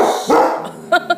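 Two short, sharp dog barks close together near the end, following a stretch of a person talking indoors at home.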